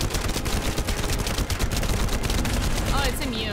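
Dense, rapid gunfire from a shooter looter video game rattles loudly and continuously, with overlapping shots and bursts and no pauses.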